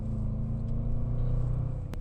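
Deep, steady exhaust rumble from a Jaguar F-Pace SVR driving in sport setting, heard from inside the car as a continuous low drone with a brief higher crackle near the end.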